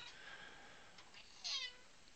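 A cat gives a single short, faint meow near the end of a quiet stretch, heard alone against soft room background.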